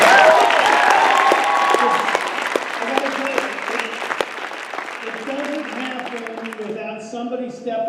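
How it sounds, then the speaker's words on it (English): Big round of applause for Scotty at a Beachbody event, loud crowd clapping that gradually thins and fades as voices and cheers rise toward the end. "let's give Scotty one big round of applause"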